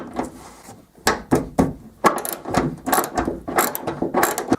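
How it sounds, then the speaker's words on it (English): A ratchet clicks in quick bursts while loosening 10mm bolts on a Ford Focus tailgate, close up, with short pauses between strokes. "Next we need to remove these four 10mm bolts."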